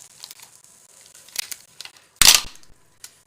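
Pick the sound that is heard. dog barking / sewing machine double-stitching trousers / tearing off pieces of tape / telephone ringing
tearing off pieces of tape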